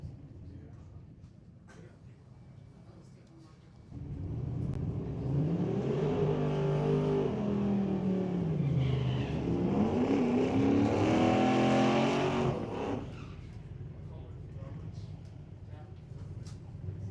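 Drag racing cars, including a black Mustang, rev and accelerate hard, with a loud engine roar climbing and swelling in pitch for several seconds before easing back. An announcer talks over the engine noise.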